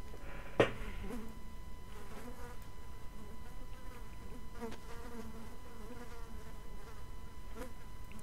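Flies buzz steadily around a zombie corpse in the DayZ video game, a close, continuous insect drone with a brief sharp knock near the start and no voices.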